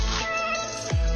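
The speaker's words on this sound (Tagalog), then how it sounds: "Pusa na to ay napaka-astig." A cat gives a single drawn-out meow, close and clear, rising and then falling at the end, with no other sounds around it.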